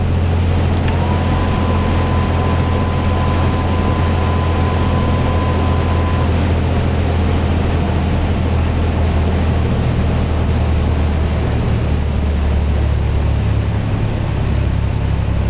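A Cessna 182's engine drones steadily with the throttle cut back in a Prepar3d flight simulator on an Alaska river flight, a constant low hum with a thin tone that fades partway through.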